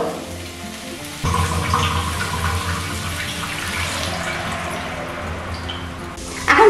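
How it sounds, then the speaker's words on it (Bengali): Water pours steadily into a powdered milk mixture for Bengali shukto, a close continuous splashing stream that swells partway through and then runs on evenly. "এখন আমি এর মধ্যে দিয়ে দেবো পরিমাণ মতন জল।"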